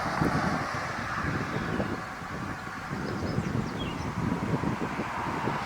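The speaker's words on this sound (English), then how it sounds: "Wind is blowing." Steady, loud wind blows hard against the microphone throughout, a continuous low rumbling roar with faint rustle and no pauses.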